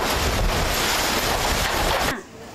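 A loud, dense roar of a strong wind and rain storm strong enough to nearly tear off corrugated metal roofing, continuous and heavy, then cutting off abruptly just before the end.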